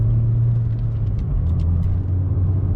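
An old Peugeot 106 S16 or Citroën Saxo VTS, a small hatchback more than 20 years old, drives along with a steady, loud low engine drone and road rumble, heard from inside, with a slight dip as the engine note shifts midway.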